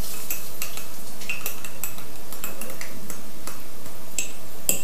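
A utensil stirring ground-meat sauce in a pan, with a series of light scraping clinks and taps at an uneven rhythm, close and moderately loud with no talking.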